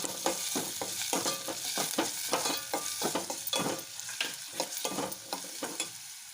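Chopped onions and paneer frying in a pan for paneer kulcha filling, with a pinch of salt added: soft sizzling under repeated scraping strokes of a spatula in a quick, uneven rhythm, close and moderately quiet, no voices.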